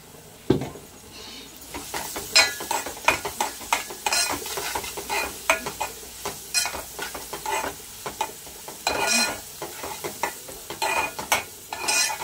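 Onions frying for boiled egg curry, a continuous close sizzle with frequent sharp scraping and clanking of a spoon stirring against the pan, irregular strokes throughout and no speech.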